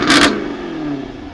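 A 2021 Jaguar F-Type R with a 575 hp engine revs while parked and bumps against its soft limiter, a short, loud blip followed by the engine holding a steady, droning pitch.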